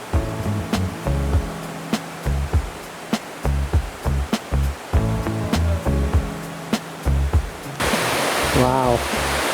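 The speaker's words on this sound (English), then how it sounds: "Several waterfalls, I believe." Several waterfalls near an old monastery give a steady rushing hiss beneath people talking, with the broad roar of falling water swelling louder toward the end.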